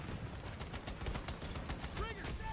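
Gunfire in Battlefield 2042, rapid bursts of shots at moderate distance in a busy battle mix, with brief electronic tones near the end.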